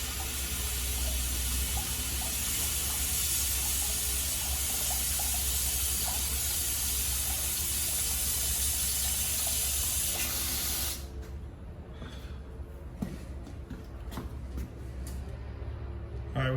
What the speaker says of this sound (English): I'm gonna turn the water on. Might leak a little bit at the fittings.